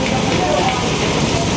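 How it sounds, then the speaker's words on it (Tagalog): Heavy rain pours steadily and loudly in a rainy Philippine setting, a dense continuous hiss of drops on surfaces with no break, close and unbroken throughout. "Lakas ng ulan."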